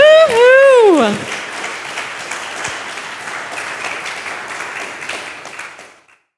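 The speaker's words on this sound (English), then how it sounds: "With thunderous clapping and great joy" A church congregation clapping and cheering at a labor and union-themed worship service, with a whooping voice at the start and steady, sustained applause that carries for several seconds before stopping abruptly.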